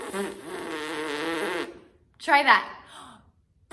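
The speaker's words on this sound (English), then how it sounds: "We can call that buzzing your lips when you're playing on a brass instrument." Pressed lips buzz as a brass player does without an instrument, a raspy, fly-like drone of about a second and a half, then a second shorter buzz, close up, with a brief spoken remark between them.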